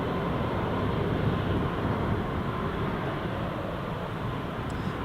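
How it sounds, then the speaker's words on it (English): A Ryanair airliner rolling down the runway at Newcastle International Airport on its takeoff run: a steady, loud, broad jet roar with no pauses and no talking. "there goes the Ryanair, rolling down the runway"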